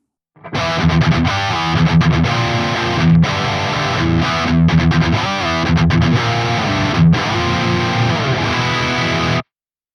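Heavily distorted electric guitar through a Soldano SLO-100 amp with the bass boosted riffs with a thick low end, loud and continuous for several seconds, with brief pauses between chords.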